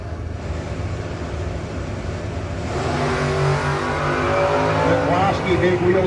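Drag race cars launch off the line at a no-box 660 shootout, engines swelling into a loud, rising roar about halfway through while an announcer talks over the track noise.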